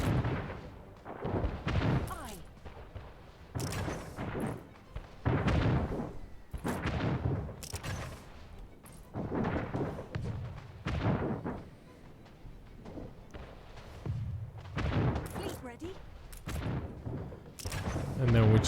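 Ships of the line firing broadside cannons during a naval battle in Anno 1800, with repeated heavy booms and rolling volleys in irregular bursts alongside ongoing battle noise, and a voice talking over much of it.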